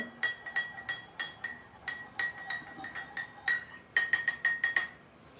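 A spoon stirs a hot drink with a lemon slice in a glass, giving a run of bright, quick clinks in an uneven rhythm, close and fairly loud with no talk.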